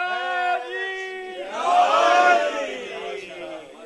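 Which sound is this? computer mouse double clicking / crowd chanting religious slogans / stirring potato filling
crowd chanting religious slogans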